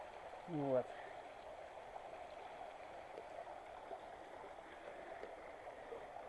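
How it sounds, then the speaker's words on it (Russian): A small waterfall at the end of a rocky canyon on the Kamenistaya river gives a faint, steady, even rush of water that runs throughout, with one brief louder sound near the start. "Наш каньончик заканчивает водопадиком небольшим."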